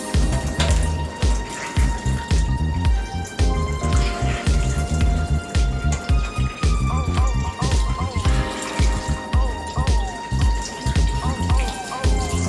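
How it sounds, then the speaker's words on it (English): Cold tap water runs and splashes in a kitchen while tuna is rinsed by hand, a loud, uneven patter that continues throughout. "I'm going to slightly rinse it with cold water."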